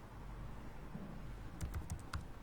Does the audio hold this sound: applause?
no